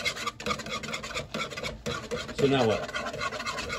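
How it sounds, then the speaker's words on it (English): Whisk scraping steadily around a pot of eggnog, a close, rhythmic metallic rasping that continues under a brief spoken remark. "Whisk constantly for just a few minutes."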